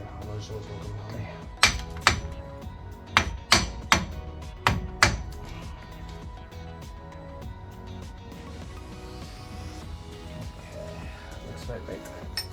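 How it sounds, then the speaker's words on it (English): A hammer taps metal while a Seat Leon brake caliper and its sliders are being refitted. Several sharp knocks come in a loose cluster, some in quick pairs, close by, with faint workshop background and no clear talk. "So hammers will come handy."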